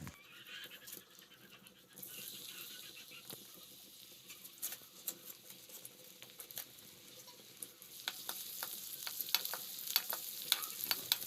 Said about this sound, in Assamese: তেলত পিঁয়াজ, নহৰু দি দিলোঁ। অলপ ভাজি ল'ম।